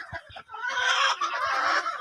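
Laying hens clucking on a poultry farm in Rangpur, a dense, continuous chorus of fowl calls with a few deeper clucks near the start, close and fairly loud.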